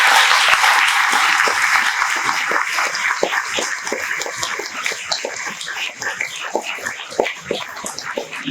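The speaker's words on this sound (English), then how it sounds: "Please give them a massive round of applause." Audience applause welcoming secondary school students to the stage: dense, steady clapping from a crowd that stays loud throughout and thins slightly toward the end, with no talking over it.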